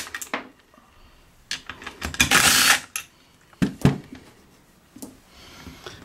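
Metallic clicks, clanks and a short harsh ratcheting burst as nuts are loosened and removed from the brake cover of a chain hoist, close-up with several separate bursts.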